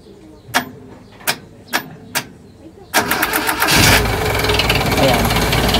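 Several sharp clicks of a starter attempt on a hard-starting car, then the engine catches and roars into a loud, steady idle.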